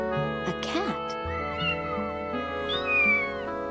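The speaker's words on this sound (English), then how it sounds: "Yeah, it's called a cat." A cat meows in a cartoon scene, with drawn-out tonal cries mixed in among people talking and background music.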